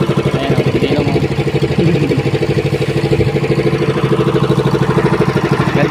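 A fishing boat engine runs close and loud with a steady, rapid chugging beat, while someone speaks briefly over it.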